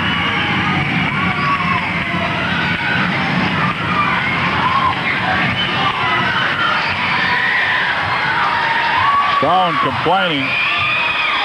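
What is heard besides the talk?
wrestling crowd cheering and making noise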